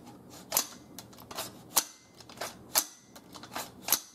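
Bolt of a Matrix Arms .308 large-frame AR receiver set cycling with a dummy round, a series of sharp metallic clacks and snaps spaced irregularly, close and fairly quiet with no talking.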